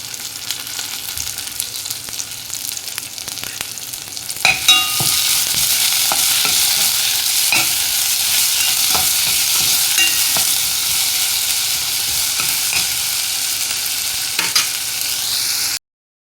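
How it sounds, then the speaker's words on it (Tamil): Tomato sizzles loudly in a hot pan with occasional stirring clatter; the sizzle jumps up sharply partway through and then continues steadily. "தக்காளி நல்லா பொரிஞ்சாச்சு."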